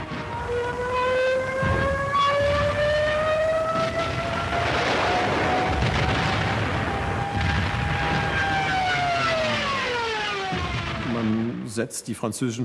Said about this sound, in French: les sirènes des Stuka qui retentissaient lors de la descente en piqué de l'avion